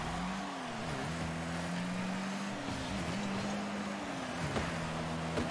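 A rocket-powered car in Rocket League drives with a steady engine drone, its pitch dipping and swooping a few times as it boosts and maneuvers, with no talking.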